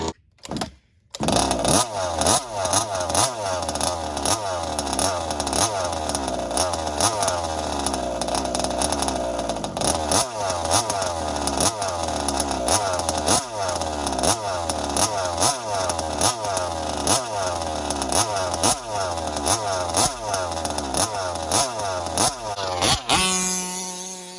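Rovan gas-powered RC buggy with a two-stroke engine revving hard, a loud buzzing chainsaw-like whine that surges and drops in rapid repeated blips for over twenty seconds, close by, then cutting off at the end.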